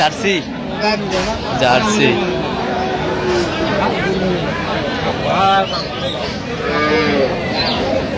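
Cows with their calves, including Jersey cattle, moo loudly several times at a busy cattle market, with people chattering and bargaining around them.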